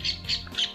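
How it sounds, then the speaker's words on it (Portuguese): A small bird chirps in three quick, bright bursts, close by, with faint background hum between calls. "É isso aí, passarinho, canta mesmo."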